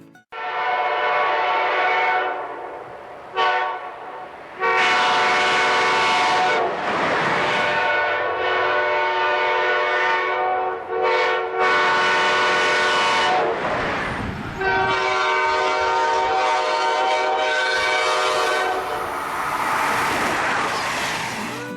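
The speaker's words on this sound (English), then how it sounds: "The units came equipped with Nathan K5LA air horns." An EMD AEM-7 electric locomotive blasts its Nathan K5LA multi-chime air horn in a series of long and short loud chords, close and powerful, with rail rumble underneath.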